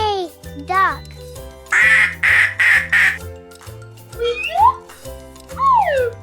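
A duck quacks in a rapid series of four loud, nasal bursts, set among squeaky sliding effects and a bouncy background music track.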